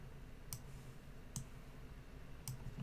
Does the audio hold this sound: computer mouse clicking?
yes